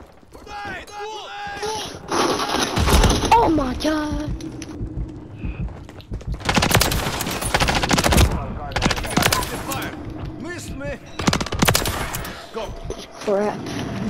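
Gunfire in Call of Duty: Modern Warfare, with loud bursts of automatic fire clustered between lulls. A player talks excitedly over the shooting.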